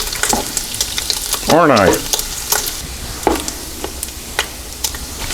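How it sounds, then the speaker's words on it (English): Bacon tipped into eggs for a seven-egg omelet, crackling and sizzling in a Cosori multi cooker, with spoon scrapes and a louder burst of stirring midway; a voice speaks briefly. "I'm going to add this bacon right into my eggs."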